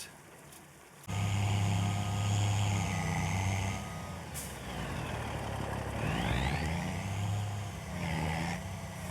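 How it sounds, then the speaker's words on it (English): A truck in Farming Simulator 25 drives with a steady, close engine rumble that starts abruptly and keeps running, alone with no talk. "Let's get our truck back to the forest."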